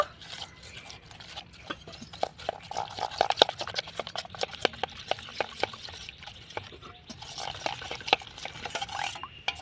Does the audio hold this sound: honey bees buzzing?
no